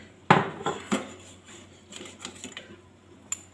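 A spoon stirs snail curry with fermented fish sauce in a pot, clattering close against the metal in a quick opening knock followed by lighter irregular scrapes and taps, no voices.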